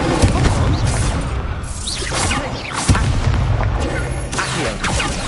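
Incendio fire spell cast in a Harry Potter dueling video game: a loud burst of whooshing, crackling flame with heavy booming impacts, dense and continuous with sharp hits throughout.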